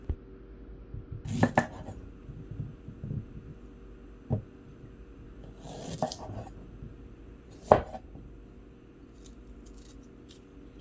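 Knife chopping fresh garlic and ginger on a cutting board for honey garlic pork chops, scattered sharp knocks and scraping taps at irregular intervals, close and fairly quiet, with no talking.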